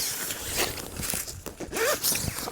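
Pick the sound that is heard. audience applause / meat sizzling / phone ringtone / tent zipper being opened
tent zipper being opened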